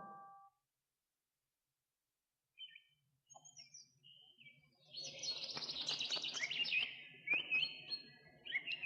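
A small bird chirps and twitters in a tree, with bright, busy calls rising after a quiet start and building into a steady, fairly close stream of song toward the end.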